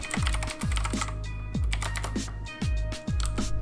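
Computer keyboard typing in quick clustered bursts of crisp key clicks with brief pauses between, close and clear over a steady hum.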